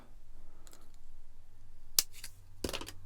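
Scissors snipping edging strips for a scratch-built model, a few faint, close, sharp cuts spaced apart in a quiet room.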